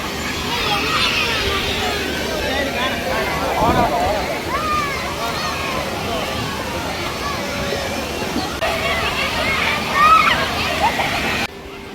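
Water churning and splashing in a crowded theme park wave pool, a continuous sloshing roar with a murmur of distant crowd voices mixed in, briefly swelling near the end.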